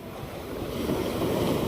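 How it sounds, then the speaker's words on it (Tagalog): Large ocean waves make a steady, close roar and wash with some wind rumble, building slightly louder over a short stretch. No one speaks. "malaki din kasi din ang alon"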